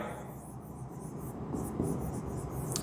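Hand writing an equation during a Class 10 maths lesson, with a soft, steady scratch of pen on paper continuing for a few seconds against a low room background.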